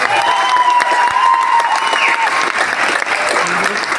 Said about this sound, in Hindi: बजाना है ना तो लगे आपको कि हॉल के अंदर बैठ के ताली बजा